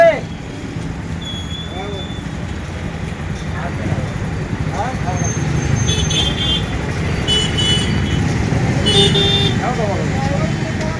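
Busy street traffic with engines rumbling steadily and a few car horns tooting, one longer honk mid-way, while someone talks loudly over the din about vehicles stopping on a road missing its footpath.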